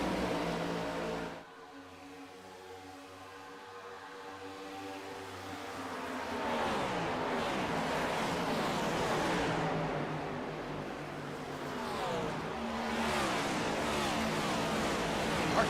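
NASCAR race cars roar around Pocono in the iRacing sim, a sustained buzzing engine drone with rising pitch sweeps from revving and shifting, a brief quieter stretch early on, and no talk.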